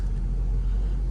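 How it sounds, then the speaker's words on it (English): A Jeep driving past: a low, steady engine and road rumble, moderately loud and constant throughout, with no talking. "There's a Jeep coming."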